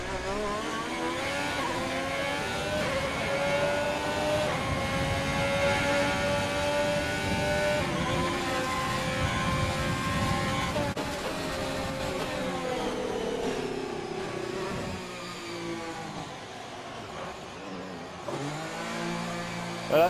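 Racing video game car with worn-out tyres spinning out during a Baku Grand Prix, its engine revving and wailing steadily throughout, pitch swooping as the car slides around, with a brief low-energy dip near the end.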